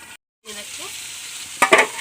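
Mushroom curry sizzles and fries in a pan after water goes in, a steady close crackle with a short silent gap near the start and a louder burst of spitting toward the end.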